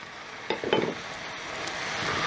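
Ground pepper paste goes into mutton frying in a pan for pepper mutton gravy. A short burst of sharper sizzling and spattering settles into a steady, close hiss of frying.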